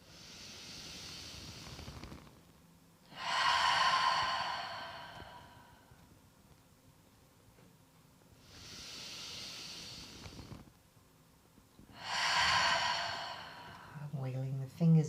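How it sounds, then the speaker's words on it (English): Two slow, deep breaths at the close of a power yoga session, each a long, breathy inhale followed by a fuller, louder hissing exhale, close and steady with quiet pauses between. "we take 2 deep inhales and exhales to close the practice"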